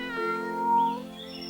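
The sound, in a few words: kitten meowing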